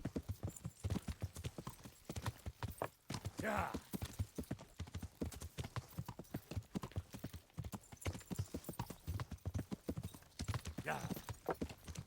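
Horse hooves clip-clop in a steady, rapid gallop rhythm through a city in the medieval game Kingdom Come: Deliverance, sustained and fairly close, with a voice talking over parts of it.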